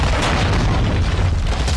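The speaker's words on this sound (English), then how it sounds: "Hostiles launched a cruise missile." A cruise missile explodes in the game Call of Duty Modern Warfare II, a loud, sustained deep boom with rumbling low end filling the short stretch, no voices.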